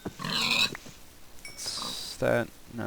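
Pig in the Minecraft video game grunting in several short, close bursts with gaps between them, clear and fairly loud with no talk over them.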